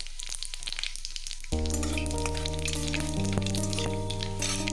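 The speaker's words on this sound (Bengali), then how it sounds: "শুকনো লঙ্কা 5 ফোড়ন দিয়ে দিলাম।" Dried red chillies and panch phoron spices crackle and sizzle in hot oil in a pan, a loud steady frying hiss over a low hum, with no talk.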